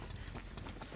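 A generator in the Dead by Daylight game runs with a brief, continuous clattering mechanical rattle, fairly faint and heard alone.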